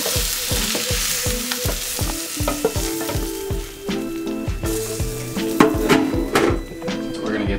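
Enchilada sauce sizzling in a hot pan while a utensil stirs and scrapes through it in a rapid, rhythmic series of loud, close knocks over a steady frying hiss.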